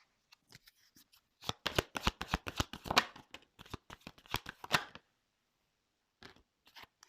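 A deck of tarot cards is riffled in a rapid, close burst of crisp flutters that lasts several seconds, then falls silent before a few softer shuffles. No one speaks.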